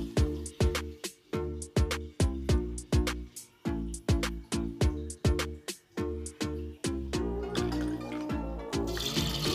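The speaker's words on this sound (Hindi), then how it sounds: "अब इसमें हम 2 से 3 ग्लास पानी डालेंगे।" Water is poured from a glass into a pressure cooker holding washed lentils, making close, rhythmic glugging splashes that run together toward the end.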